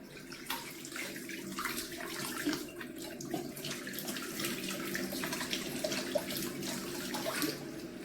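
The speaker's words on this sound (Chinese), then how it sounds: "鸡翅先用清水解冻，解冻后再清洗干净" Tap water runs steadily over thawed chicken wings being rinsed clean, a close, continuous splashing stream with small drips and no talking.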